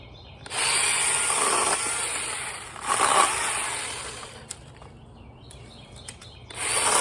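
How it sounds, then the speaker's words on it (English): A small battery-powered saw whines as it bites into branches in two or three bursts, with quieter pauses and light clicks between cuts. "I have a portable mini chainsaw to be able to cut up the branches even smaller."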